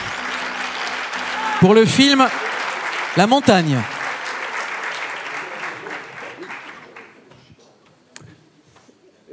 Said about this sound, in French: vous pouvez de nouveau applaudir Thomas